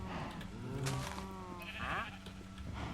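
Sheep bleating in Minecraft, a couple of close, loud bleats over a steady busy game background, with no speech.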